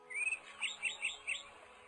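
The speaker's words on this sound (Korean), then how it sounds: "하늘을 나는 새를 만드셨어요." Bird chirps serve as a sound effect in a children's Bible story about creation, a series of five or six bright, clear tweets in a steady rhythm over a quiet background.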